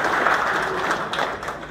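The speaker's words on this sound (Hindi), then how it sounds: "तो ताली किसके लिए होनी चाहिए?" Audience applause from electricians at a company event, a steady dense wash of clapping lasting throughout, loud and even with no voices over it.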